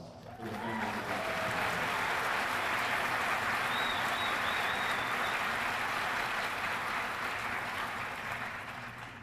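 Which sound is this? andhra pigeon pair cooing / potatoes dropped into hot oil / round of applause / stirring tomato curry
round of applause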